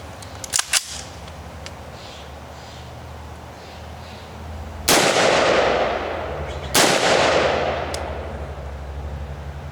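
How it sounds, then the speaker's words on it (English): Two loud, sharp M4 rifle shots of .223 rounds fired at a wall and fridge, spaced about two seconds apart, each with a booming echo that decays slowly, after a couple of faint clicks. "We shot a couple of times with a 223."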